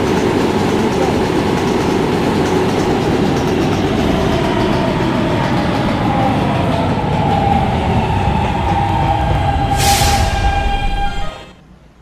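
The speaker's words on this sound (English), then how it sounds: "This is a Catlin-bound K train." A New York subway K train runs loudly at close range, a continuous rumble with rattling wheels and a rising whine, ending in a sharp hiss as it slows and quiets.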